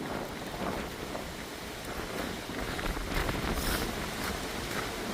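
Strong wind blows on a mountain, a continuous broadband roar buffeting the microphone with gusting swells, steady and close throughout.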